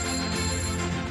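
A telephone rings in a steady, close, sustained electronic tone that fills the short moment on its own.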